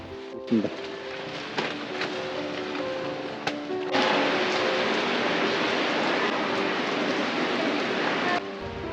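Rain falling at a covered traditional five-day market under an arcade roof in Inwol, Namwon, a steady hissing wash that thickens and grows louder partway through, with faint scattered clatter and a brief tonal sound early on.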